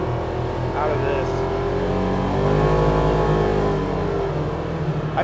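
A side-by-side UTV engine, either a Kawasaki Z950 Sport or a Polaris RZR XP 1000, revs and accelerates steadily with a loud, rising drone, heard up close with a voice talking over it.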